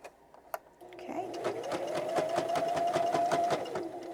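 A sewing machine stitches a composition notebook pen pouch, a fast, even train of mechanical pulses running for about three seconds after a short tap, close and clear.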